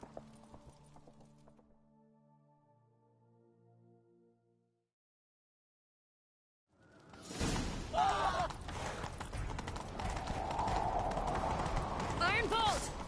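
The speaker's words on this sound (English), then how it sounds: "Grab a horse, we'll chase him down." Horse hooves gallop in The Witcher III: quiet game sounds and voices give way after a silent gap to loud, fast clip-clopping with rushing motion and speech over it.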